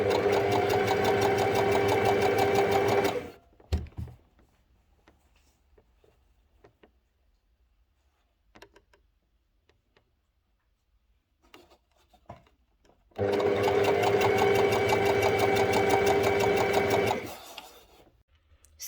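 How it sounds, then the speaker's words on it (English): A sewing machine stitching thick, stretchy green fabric for a skirt runs in two steady, loud mechanical bursts of about three and five seconds, separated by a long quiet stretch with faint handling noises. "We've sewn this side together and just finished that top bit off."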